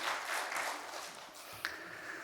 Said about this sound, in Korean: 우리 교우들 감사한 마음을 담아서 한번 박수하겠습니다